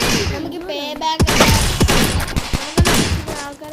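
Gunfire in the video game Dude Theft Wars: several sharp, loud shots and thumps in irregular bursts, mixed with game noise and a speaking voice.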